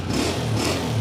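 Honda 125 motorcycle engine running at a steady idle, a loud, close, continuous low rumble with even pulsing throughout.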